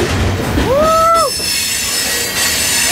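A freight train rolls along with loud metallic wheel squeal on the rails, a sharp rising and falling screech that stands out over the steady rumble and clatter of the cars.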